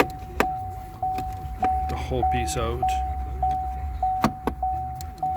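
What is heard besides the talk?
Chevy Volt warning beeping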